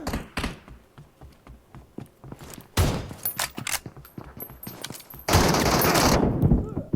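Automatic weapon fire rattles in bursts during a PUBG Mobile match, loud and close, with rapid shot strings separated by short pauses and one long sustained volley near the end.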